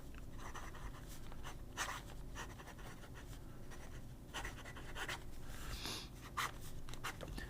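A fountain pen with a fine nib scratches across paper in soft, quiet strokes, a series of short irregular scrapes and taps recorded close up.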